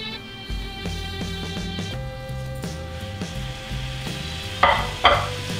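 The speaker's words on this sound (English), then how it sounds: "Now, using the same pan," Bear meat browning in a pan for bear stroganoff, a steady sizzle beneath faint background music, with stirring and two sharper scrapes near the end.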